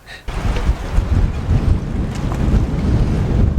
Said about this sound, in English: I don't know how many knots of wind this is, but it's a lot.